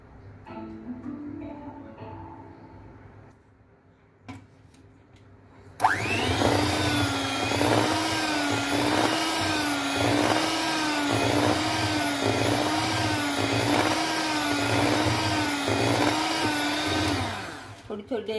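Quiet indoor sounds give way at once to a hand blender churning cream into butter at home, a loud steady motor whine with a pulsing wobble that runs for about twelve seconds before stopping.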